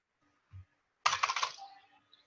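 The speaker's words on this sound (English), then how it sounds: "I am typing." Keys clatter on a computer keyboard as command line arguments are typed, a quick run of close clicks lasting about half a second after one soft low thump, in a quiet room.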